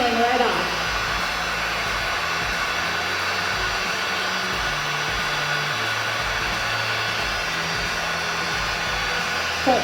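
A heat gun blows hot air onto painted wood to soften the paint for scraping. It gives a steady, close, unbroken whooshing whir that holds the same level from start to end.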